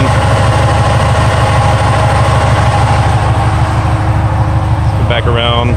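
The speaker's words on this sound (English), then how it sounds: "there goes the fan again" The radiator cooling fan on a rebuilt Jeep JK 392 Hemi runs as a loud, steady whooshing drone over the low rumble of the idling V8, close and continuous, with a voice speaking briefly near the end.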